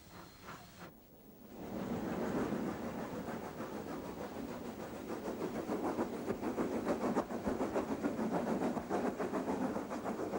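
A train on the North Yorkshire Moors Railway rolls past steadily, a brief quiet lull giving way to a sustained rumble and rhythmic clatter of wheels with hiss, growing slightly louder as it continues.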